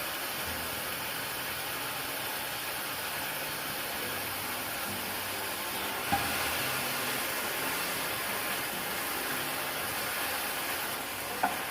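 Skinless pork longganisa sausages frying in oil over medium heat, giving a steady, even sizzle throughout with a couple of faint clicks and no talking.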